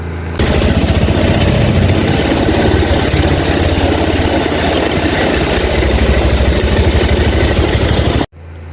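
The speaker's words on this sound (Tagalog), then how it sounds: "Okay, parking na po natin itong ating motorsiklo." A motorcycle engine idles close by in a loud, steady rumble that runs unbroken for about eight seconds before cutting off abruptly.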